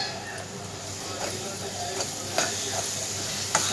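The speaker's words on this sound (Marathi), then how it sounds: "आता चांगलं फ्राय होऊन द्यायचं।" Masala paste for a vaal bhaji, a field bean curry, sizzles and fries in a pan with a steady hiss, broken by a few scraping stirs of the spoon. Nobody speaks.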